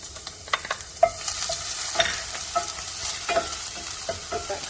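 Scallion whites and garlic hitting a preheated pan before shrimp, a bright continuous sizzle up close with scattered pops and crackles throughout.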